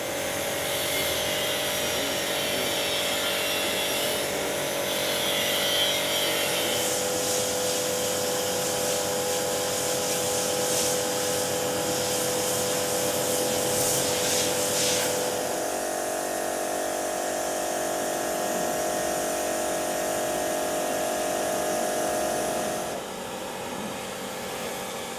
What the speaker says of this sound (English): High pressure washer of Agrimate, Oleomac, Comet and many more brands are available in the open market.